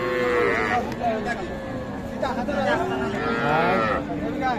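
Cows moo repeatedly at a busy cattle market, including a dairy cow with her calf, with loud calls standing out over a crowd of people talking throughout.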